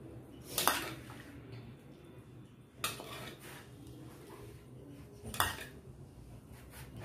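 A metal spoon spreading tadka tempering over steamed dhokla makes three sharp, separate clinks against the dish. Each is well spaced, with a quiet kitchen in between.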